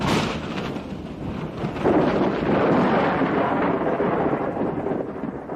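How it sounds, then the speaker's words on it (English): A deep roll of thunder from an approaching storm rumbles on over the Drakensberg Mountains, swelling into a long, loud, echoing boom that keeps rolling across the distance. "The hills echo the coming storm"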